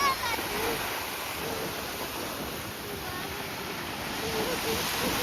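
Sea waves wash in at the shore of a beach resort, a steady broadband hiss of surf with gentle swells, continuous and moderately close.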